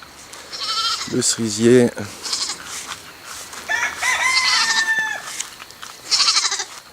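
A young goat bleats on a farm, several wavering cries close by with a rooster crowing among them, while a person talks between the calls.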